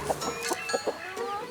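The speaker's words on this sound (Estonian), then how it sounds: "Nii ilus kukk. Ja kanakesed on ka nii ilusad." Chickens and a rooster cluck in short repeated bursts at a farmyard, several close calls spaced through steady outdoor background.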